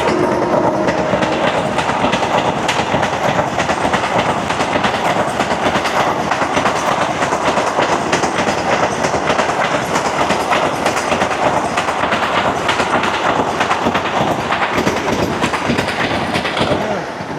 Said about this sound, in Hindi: शायद कोई नई ट्रेन है, शायद वंदे भारत या कोई तेजस, इस तरह की कोई ट्रेन है जो गाज़ियाबाद स्टेशन पर रुकती नहीं है, सीधी निकल गई।